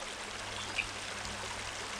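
A creek in Chewacla State Park flowing over rocks, a soft continuous rush and trickle of water heard steadily from nearby, with no voices.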